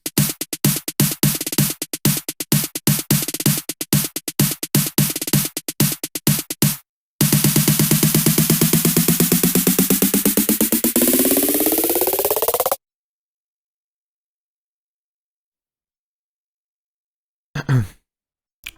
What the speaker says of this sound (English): I also added 3 layers of snares